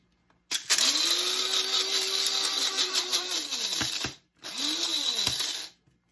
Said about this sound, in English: I put the beans inside of the grinder